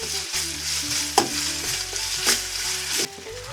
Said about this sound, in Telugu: ఇప్పుడైతే ఇందులో పచ్చి అల్లం వెల్లుల్లి పేస్ట్ అయితే వేసుకుంటున్నాను. పచ్చి వాసన పోయేంత వరకు ఈ పేస్ట్ని అయితే మనం ఫ్రై చేసుకోవాలి.